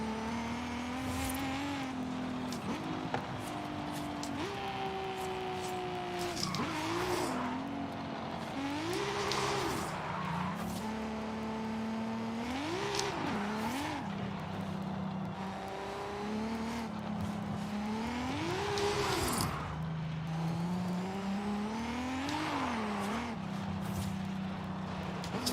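A car in Forza Horizon roars through repeated rising revs and gear changes, with its engine and spinning tires loud and continuous throughout.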